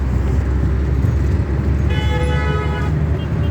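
A car horn gives a short honk amid steady roadway traffic rumble near a motorway in Neyshabur, Iran, heard from inside a moving vehicle.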